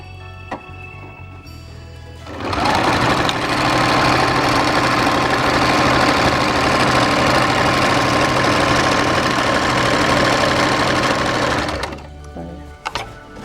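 An Usha Janome Stitch Magic sewing machine from 2017 stitches in one long, loud, steady run of about ten seconds. Its motor hum and rapid needle rhythm are heard close, with a few small mechanical clicks before and after.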